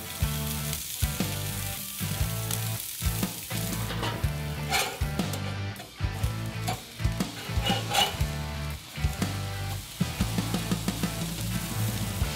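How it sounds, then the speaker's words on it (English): Burgers searing on a barbecue grill heated nice and hot, a steady loud sizzle running throughout with intermittent sharper crackles and pops, no talking. "And I'm going to sear up those burgers."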